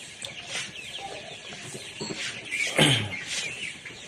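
Fifty-day-old vaccinated layer pullets cluck and chatter on a poultry farm, several birds overlapping in a busy, close flock with one louder call near the middle.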